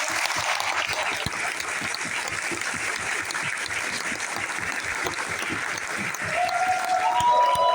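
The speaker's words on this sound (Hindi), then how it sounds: "2 लोगों के लिए ताली बजाओ जोर से" Sustained applause from a seminar audience clapping loudly for two people, a dense even roar of many hands that swells slightly toward the end, with no talking over it.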